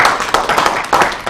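Audience applause from a producers and influencers workshop crowd, a steady dense patter of many hands clapping at close range, continuous and fairly loud throughout.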